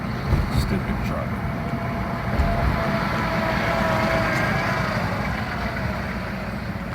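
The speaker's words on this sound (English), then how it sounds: "Stupid truck." A truck rumbles through Fayetteville stop-and-go traffic with a steady low drone and road noise throughout, close and fairly loud, and no clear separate events stand out.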